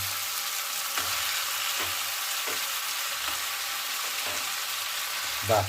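Meat sizzling steadily in a hot pan for a home-style cooked dish, a continuous crackling fry with a few louder stirring scrapes, heard alone without talk.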